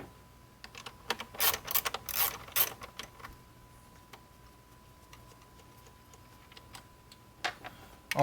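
A ratchet wrench loosens four 10mm bolts on a part from a 2006-2013 Dodge Charger or Avenger, giving bursts of quick clicking ticks in two close clusters followed by quieter pauses. A final burst comes near the end, with no speech.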